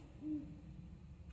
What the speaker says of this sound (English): I'm gonna see if I can get closer to where that hoot owl is.